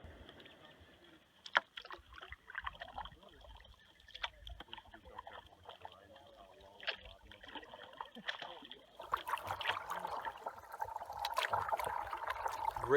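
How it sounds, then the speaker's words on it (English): A canoe glides through a calm, windless thoroughfare in the Allagash Wilderness Waterway, its paddle strokes giving soft, close splashes and trickles that grow busier and louder toward the end. "Great morning paddling through this thoroughfare"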